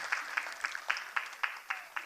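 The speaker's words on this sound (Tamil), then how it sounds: "உங்களுக்கு பெரிய கைத்தட்டு கொடுத்துக்கலாம், நல்லா சத்தமாகவே கொடுக்கலாம்" Hands clap in an even, rhythmic beat of about eight sharp claps, fairly faint, from the audience at a Bharatanatyam dance event.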